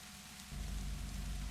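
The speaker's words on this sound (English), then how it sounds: "All this rain" Steady rain patters in a cozy horror video game, a soft hiss that thickens halfway through into a fuller, low wash of downpour, faint and continuous with no voices.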